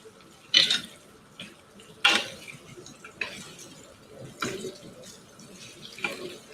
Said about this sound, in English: Once the meat is done, I will put water inside it.